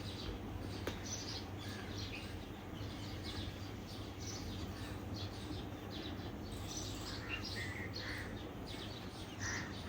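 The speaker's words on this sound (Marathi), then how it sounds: "फायनली चिमण्या आल्यात." A small flock of sparrows keeps up quick, scattered chirps on a summer evening, fairly faint against a constant low hum, with no voices.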